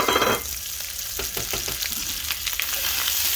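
Fried rice with onions being stir-fried in a pan with a little oil, salt, pepper, lemon pepper, ginger and chili flakes, giving a close continuous sizzle broken by scraping stirring strokes.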